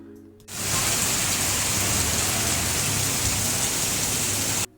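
Heavy monsoon downpour in Southeast Asia, a dense steady hiss of rain on surfaces that starts abruptly and holds loud and even for several seconds before cutting off.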